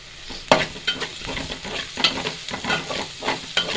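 Chili powder frying in hot oil for a fish masala curry, with a steady sizzle and repeated spoon scrapes and stirs against the pan, close and fairly loud, no voices.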